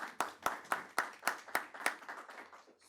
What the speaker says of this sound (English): I wish everyone would join me in a round of applause.